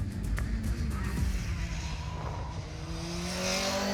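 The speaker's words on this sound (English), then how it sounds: "The F3 car has a bespoke Mercedes engine putting out 240 horsepower" A Formula 3 race car's bespoke 240-horsepower Mercedes engine screams at high revs, a loud continuous whine that climbs steadily in pitch, with no voices.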